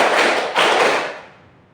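A group of children clapping in unison during a counting game, a couple of close, loud bursts of hand claps that blur together before fading into room reverberation.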